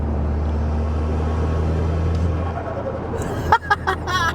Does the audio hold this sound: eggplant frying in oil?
no